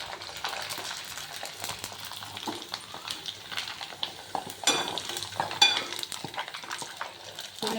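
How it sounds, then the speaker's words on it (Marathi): Wheat-jowar bibadi frying in hot oil in a kadhai, a close, continuous crackling sizzle with scattered bubbling pops and a few light metal clinks, no talking. "तर चला आता आपण आपली बिबडी तळूया."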